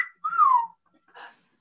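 A person whistles a wolf whistle in imitation of a starling's call: one clear, sliding, downward-falling note, then a short, breathy second burst, close and alone.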